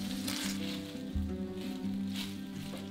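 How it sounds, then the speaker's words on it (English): Twenty chipolata sausages and diced red onion sizzle steadily in a frying pan, a close, continuous hiss with soft crackles and the occasional stir. No one talks. "I'm adding 20 chipolatas to the pan, and I'm going to cook them for about 6 to 8 minutes until they're browned all over."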